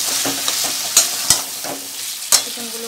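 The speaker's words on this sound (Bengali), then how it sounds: "এবার আমি প্রথম চিকেনগুলো দিয়ে দেবো এর মধ্যে।" Chicken pieces fry in a spiced masala, with a steady close sizzle broken by several sharp scrapes and knocks of a spoon stirring the pan.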